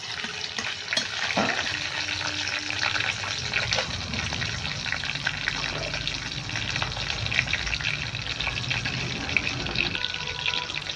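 Crushed cardamom and cinnamon frying in a pan as they are stirred, a dense continuous sizzle with occasional utensil scrapes, close and loud, with no speech.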